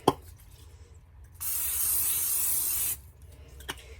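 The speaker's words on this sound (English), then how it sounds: "I'm going to take and spray the inside with just a little bit of Pam" Pam cooking spray hisses inside an air fryer basket in one steady burst of about a second and a half, close and fairly loud, with quiet kitchen handling sounds before and after.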